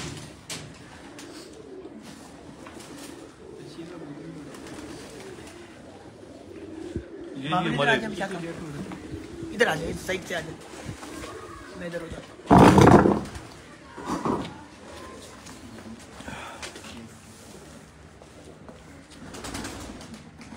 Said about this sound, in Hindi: ये जो हमारे फरंगी कबूतरों में से हैं कबूतर, और बाकी नस्ल हमारे कबूतरों की 4 नस्लों का मिक्सचर ही है